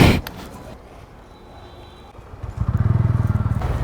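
A TVS Ronin 225 motorcycle starts moving off after a quiet stretch, its engine rising into a steady, close, pulsing rumble with fast rhythmic beats.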